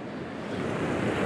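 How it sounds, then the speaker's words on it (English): Sea waves break over a small rock in the Irish Sea, a continuous rushing wash of surf mixed with wind buffeting the microphone, fairly loud and close with no voices. "waves in front, and catching the waves breaking over it"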